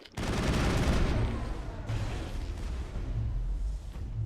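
Dense bursts of gunfire from the video game Mass Effect 1 during a crossfire fight with Geth, with rapid shots and booming impacts that stay loud and continuous throughout, with no talking.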